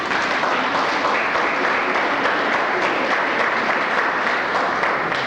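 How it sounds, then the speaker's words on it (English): An audience at a leadership awards ceremony bursts into dense, sustained applause, the clapping loud and even from start to finish with no one speaking over it. "So give her a round of applause."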